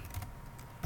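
Fast keystrokes on a computer keyboard enter a file name, a short burst of soft, close clicks with a slightly firmer tap at the end.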